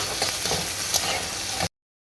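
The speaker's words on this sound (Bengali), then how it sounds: "এই তেলের মধ্যে পেঁয়াজটা একটু লাল লাল হয়ে আসছে।" Onion frying in hot oil for tehari gives a steady, dense sizzle with occasional stirring scrapes, loud and close, running continuously until an abrupt cut.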